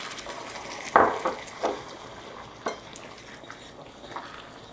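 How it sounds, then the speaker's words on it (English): Caramel sauce for a banana split is stirred in a pan, giving a few soft scraping and clinking strokes over a low steady sizzle, with no talking. "I'm gonna drop the heat a little. So like I said, it's pretty dramatic. You just keep stirring."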